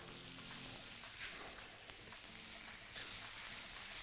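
Meat sizzling on a hot grill pan, a soft, steady frying hiss with faint crackles, low in level and continuous without talk.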